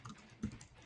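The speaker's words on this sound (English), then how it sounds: "Do I hear you typing?" Soft clicks of typing on a quiet computer keyboard come in a short, faint burst, with a single slightly louder keystroke in the middle.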